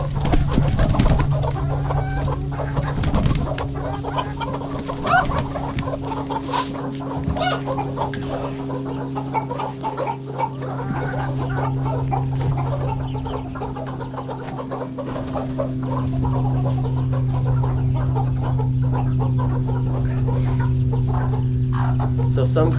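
Hens clucking and murmuring as they come into a coop, a busy, close chorus of soft clucks and squawks over a steady low hum, with occasional knocks and rustling throughout.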